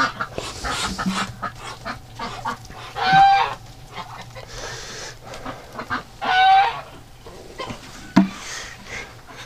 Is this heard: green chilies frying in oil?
no